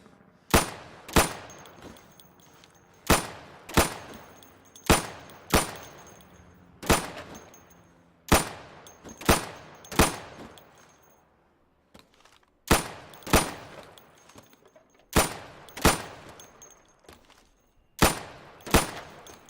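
Sidearm gunfire at pop-up targets in the shooter game Insurgency, sharp single shots fired in quick uneven bursts with short pauses between, each crack followed by a brief echoing decay, loud and close, no talking.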